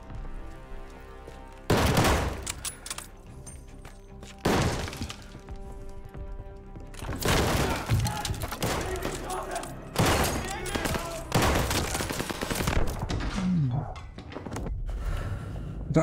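Gunfire in the shooter game Call of Duty: Vanguard, with sharp, loud bursts and volleys coming in clusters over a steady game backdrop, some shots near and some farther off.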